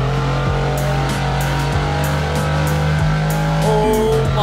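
Loud, continuous engine roar of a Brabus GT900 in a Roblox driving game, revving hard through several quick gear shifts with rising and dropping pitch and no talk.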